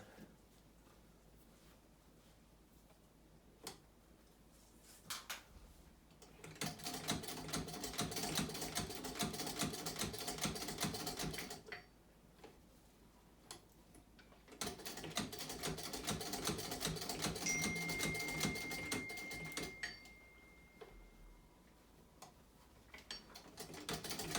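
A vintage sewing machine stitches through eight layers of denim in two long, steady runs of rapid mechanical ticking, close and even, separated by quieter pauses with faint handling sounds.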